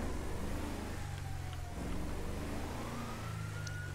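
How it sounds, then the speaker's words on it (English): A wailing ambulance siren in the video game GTA, heard at a moderate distance, rising and falling over a steady low rumble of traffic and engine noise, with no talking. "Hearing sirens."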